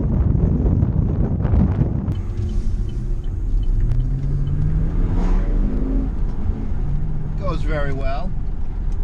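A quiet car rolls along public roads, with a low, steady cabin rumble and wind noise throughout and a faint rising engine tone in the middle; a brief voice is heard toward the end.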